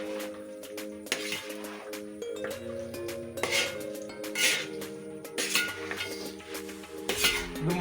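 A pot of chicken curry is stirred over a slow flame, with a ladle clinking and scraping against the metal in irregular strokes, up close and fairly soft, and a faint sizzle underneath.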